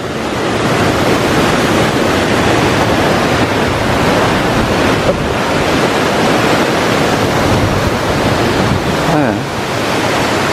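A mountain torrent rushes beside a hiking path leading to an alpine lake near Flaine in Haute-Savoie, a steady, loud, broadband roar of flowing water that continues unbroken throughout.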